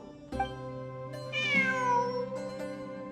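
A cat meows in the Genshin Impact video game, one long rising and falling cry standing clear over a steady background music bed, with a few short tonal accents around it.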